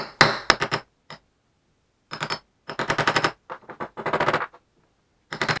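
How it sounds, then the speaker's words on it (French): A 22 mm socket taps engine casing halves into place on a small motorbike engine being reassembled, giving close, sharp metallic knocks in quick bursts with short pauses between. "Hop, je reprends ma douille, ce coup-ci, qui est d'une douille de 22. Et je viens tapoter."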